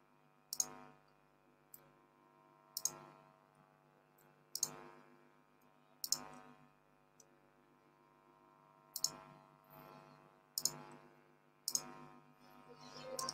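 A computer mouse clicks about nine times in a slow, irregular sequence, each click sharp and close against a faint steady hum, with no talking.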